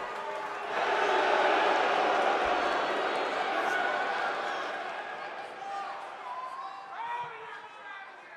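A wrestling crowd in an arena swells into a loud roar of voices that builds fast, then slowly fades to a murmur with scattered shouts, heard under commentary.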